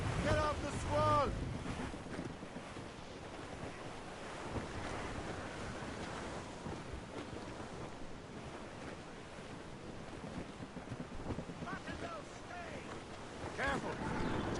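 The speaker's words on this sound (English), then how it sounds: "Careful! It's quite a rough squall, Captain." A rough squall batters a sailing ship at sea in Assassin's Creed Rogue: constant roaring wind and crashing surf fill the scene, with brief distant shouting voices now and then.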